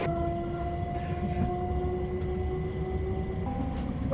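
Southern passenger train bound for Horsham, a steady rumbling ride with sustained tonal hum from the carriage throughout, heard from on board with no talking.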